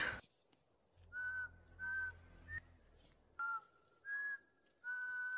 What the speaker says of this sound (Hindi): साला सीटी क्या बजा रहा है